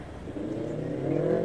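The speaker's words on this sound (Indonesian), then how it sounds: "Ada yang ngegas tadi ya." A car engine hums low and then revs up slightly, a steady rising drone heard from nearby.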